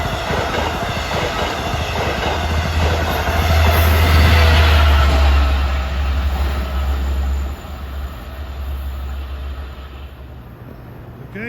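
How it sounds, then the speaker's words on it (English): An LIRR commuter train of M9 cars bound for Huntington passes at Forest Hills, rumbling close and loud with a low drone and rail clatter that builds midway, then fades as it moves off. "Here comes train 1663, Huntington Grand Central, with the Flying Yankee."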